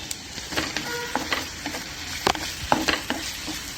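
Onions frying in a pan for a white vatana usal, a soft sizzle broken by sharp scraping stirs and clinks of a spoon against the pan, fairly quiet and close.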